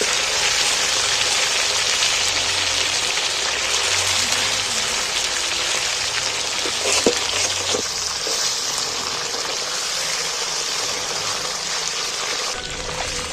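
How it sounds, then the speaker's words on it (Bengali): Chicken pieces frying in hot oil crackle and hiss, a dense, steady sizzle that holds at the same level throughout with a few brief pops. "বাদ বাকি মাংসগুলো ফের দিয়ে ভেজে দিচ্ছি আমরা"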